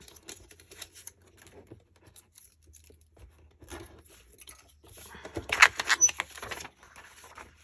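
Paper for a craft folio is cut with scissors in quiet, scattered snips and rustles, growing into a louder burst of crisp cutting and tearing near the end before settling back to soft handling noises.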